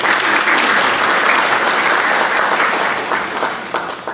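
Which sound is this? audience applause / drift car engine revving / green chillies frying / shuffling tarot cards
audience applause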